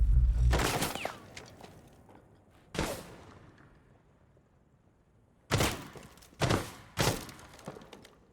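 Gunfire in a Solis match, a burst of sharp shots up front, then a lone crack, a quiet stretch, and a rapid cluster of four or five loud reports near the end.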